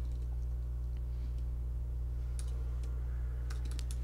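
Scattered keystrokes tap faintly on a computer keyboard in short irregular clusters over a constant low electrical hum.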